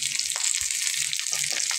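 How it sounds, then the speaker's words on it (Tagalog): Tofu frying in a small pan, a steady broadband sizzle with faint stirring clunks beneath, close and continuous for the whole short stretch with no talking. "Iprito ko ng takwa."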